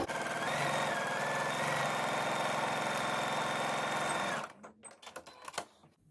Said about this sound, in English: just stitch, straight stitch all the way down through